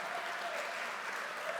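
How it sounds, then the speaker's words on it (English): A crowd applauds a first-place winner at a televised final show, a brief, even burst of clapping heard at moderate distance. "A big applause and congratulations for this wonderful"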